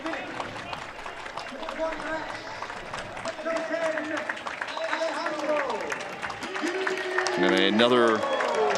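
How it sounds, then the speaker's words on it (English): A stadium crowd at a San Diego Loyal SC versus Birmingham Legion FC soccer match applauds a substitution, a broad, steady wash of clapping and cheering running beneath continuous close commentary and swelling toward the end. "great ovation from the crowd as Guido comes out for San Diego here"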